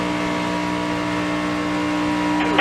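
Onboard NASCAR race car at Daytona, engine held flat out toward the checkered flag: a loud, steady high-pitched drone with constant harmonic pitch, near and unbroken, with a brief rattle near the end.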